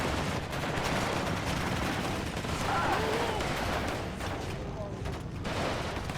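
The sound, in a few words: gunfire in a woods firefight, from the video game Warno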